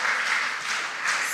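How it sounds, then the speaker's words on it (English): A round of applause at a school quiz contest between junior high schools, a brief, even burst of many hands clapping, slightly distant, with no talk over it. "A round of applause, a round of applause."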